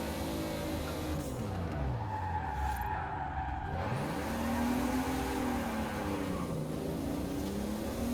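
A Supra drifts in Forza Horizon 4 with a wavering engine drone and a rising and falling tire squeal, loud and continuous through long sweeping slides.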